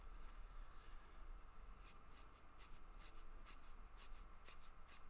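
Playing cards at a Yu-Gi-Oh tournament are shuffled in quick, repeated riffling bursts, faint against a low room hum and background chatter.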